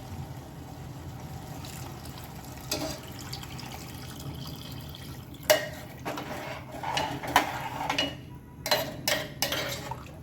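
Water is poured into whole masoor lentils in a pressure cooker, a steady liquid pour punctuated by several sharp metallic clinks of the pot and utensils, close and clear with no talking.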